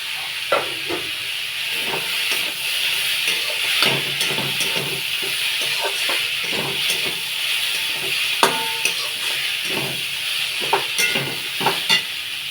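Samosa filling of fried potatoes and chickpeas stir-fried in a hot pan, with a steady loud sizzle and repeated scraping, clattering strokes of the spatula throughout.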